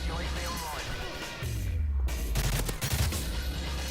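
Gunfire in Modern Warfare 3, an M16 assault rifle, dense bursts of shots layered with in-game explosions and rumble, loud and close throughout.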